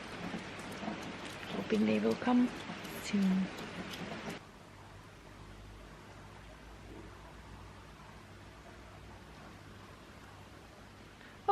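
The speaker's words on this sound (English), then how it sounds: "So just waiting in the rain," Steady rain patters and hisses at Tolmin Gorge in Slovenia while a person speaks briefly, then the rain continues alone at a softer, even level.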